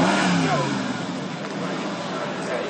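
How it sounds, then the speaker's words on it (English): McLaren SLR 722 supercar passing in a parade, a brief engine rev rising then settling into a broad roar amid crowd babble. "the McLaren 722 SLR. A very rare beast and a fantastic sounding one as well."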